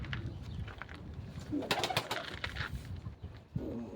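Pet pigeons kept for years coo in low, burbling calls against a noisy background, with brief sharper rustles and a faint human voice now and then.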